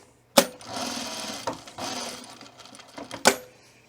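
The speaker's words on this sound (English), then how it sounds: "now I'm going to top stitch around it" A sewing machine top-stitches a leather split tool belt in short bursts of rapid mechanical chatter, with sharp clacks at the starts and stops and quiet pauses between runs.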